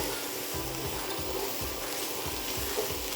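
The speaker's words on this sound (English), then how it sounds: "So we're going to cook this for a few minutes and get our mushrooms nice and softened." Mushrooms seasoned with all-purpose seasoning cook in a pan, giving a steady, close sizzle with a few soft scraping stirs along the bottom throughout.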